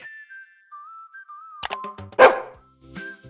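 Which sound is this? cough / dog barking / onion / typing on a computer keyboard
dog barking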